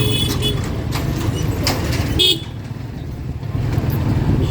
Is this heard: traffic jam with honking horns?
yes